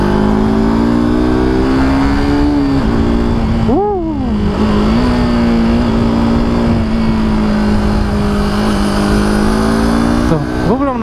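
A KTM RC 250 motorcycle on a test ride drones loudly and close with a steady engine tone, rising in pitch with brief revs around the middle and near the end as it accelerates.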